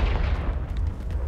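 A Confringo spell explodes in the video game Hogwarts Legacy, a heavy booming blast with a deep rumbling low end that fills the whole moment.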